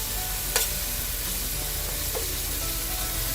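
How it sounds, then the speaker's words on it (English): Beef browns in a pan over high heat for a broccoli and beef macaroni dish, giving a steady, close sizzle with a couple of sharp scraping stir clicks and no voices. "So I'm really trying to brown this on high heat, making sure everything is touching the pan and browning really well."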